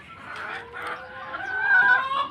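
Several chickens clucking and calling close by, a continuous chorus of short squawks rising slightly toward the end.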